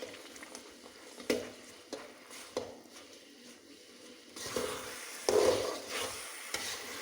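A dried jackfruit mixture stirred in a pan with cardamom, dry ginger and cumin for a Kerala chakka varattiyathu, giving soft scraping strokes and faint sizzling, with louder stirring toward the end.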